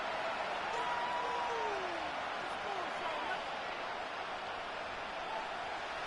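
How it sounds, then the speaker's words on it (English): A steady roar of a stadium crowd in a Madden football video game against the Broncos, a dense continuous wash of noise with a commentator talking over it. "This crowd turning up the decibel level."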